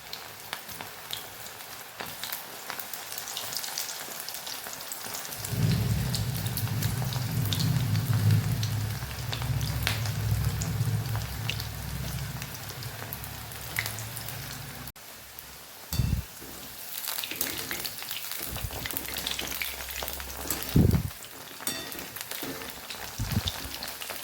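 Manchurian balls deep frying in hot oil, a steady hiss and crackle that swells louder midway and carries on with a few sharper pops, and no one speaking.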